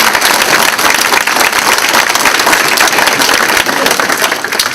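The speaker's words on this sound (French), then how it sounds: "j'aimerais ça qu'on leur donne une bonne main d'applaudissement pour cette soirée" Loud, dense applause from the audience at a volunteer tribute gala, sustained steady clapping filling the room for several seconds.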